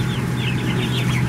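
Chickens on a pasture farm in Georgia cluck and chatter steadily as a flock, with overlapping calls at close to medium range over a constant low hum.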